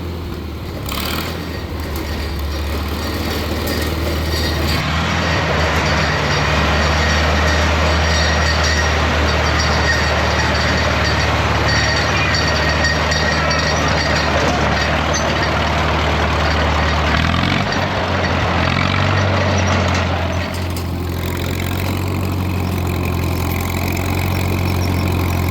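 An old Caterpillar machine that had not moved in nearly 50 years runs its engine in a loud, steady low rumble close by, with a brief shift in tone partway through.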